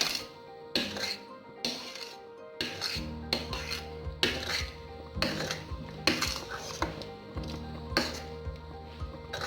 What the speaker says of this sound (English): So now the Ligusha is almost ready. So I'll just stir it and keep it for like 5 minutes.